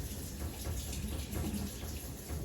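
A steady stream of water pours from a stainless kitchen faucet while hands are washed under it to remove onion and garlic smell, a continuous close hiss.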